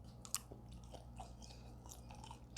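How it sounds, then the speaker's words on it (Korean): Close, quiet chewing of Korean sundae (blood sausage) dipped in ssamjang at a market gukbap restaurant: soft wet mastication with a few faint crunchy bites, over a low steady room hum and with no talk. "저 쌈장에 한번 찍어 먹어볼게요"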